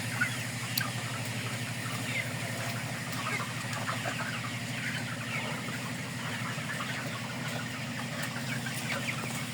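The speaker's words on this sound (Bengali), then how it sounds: "দয়া প্রতিটা মুরগি সুস্থ এবং সবল আছে" Chickens cluck and call steadily on a poultry farm, a dense flock of same-sized birds about 120 days old, heard over a constant low mechanical hum with no talk.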